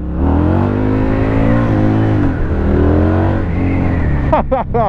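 A Husqvarna Nuda 900R twin-cylinder motorcycle engine drones loud and steady at close range, its pitch rising and falling with throttle before a sharp rev near the end.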